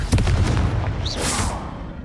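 Confringo fire spell blast from the Hogwarts Legacy game, a loud close booming burst at the start trailing into a rumbling crackle with a brief whooshing sweep near the end.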